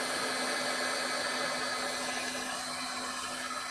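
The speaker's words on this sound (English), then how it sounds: "I am going to get my heat embossing gun." Heat embossing gun running while it heats up for a stamping craft project, giving a steady, loud fan-like whir with a constant hum and no change in level, with no talking.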